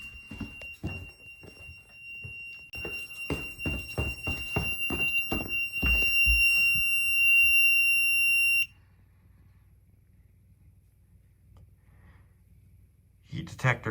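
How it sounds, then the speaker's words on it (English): A home fire alarm system sounds during an annual whole-system test: a loud, steady high-pitched alarm tone joined by rapid repeated horn pulses, runs for about nine seconds, then cuts off, leaving quiet room hum and a brief noise at the end. "System's in alarm again."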